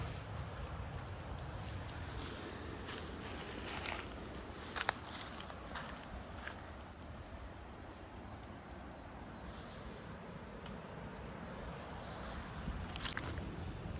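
Crickets inside a large crab hole near ancient ruins on St Croix give a steady, high, continuous chirping drone, faint and alone with a few soft rustles.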